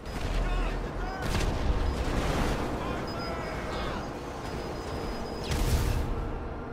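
Tank cannon blasts and explosions in GTA 5, heavy booming impacts over a dense rumbling backdrop of game noise, with a couple of louder hits standing out.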